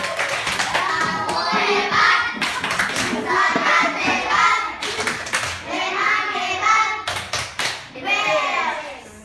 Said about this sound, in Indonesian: Kita tepuk hebat untuk kelompok serigala.